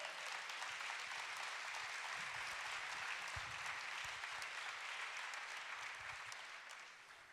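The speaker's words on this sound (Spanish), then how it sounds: "Dele palmas al Rey de la Gloria." A church congregation claps together in steady, sustained applause, a dense patter of many hands heard at a distance that carries on for several seconds before easing slightly at the end.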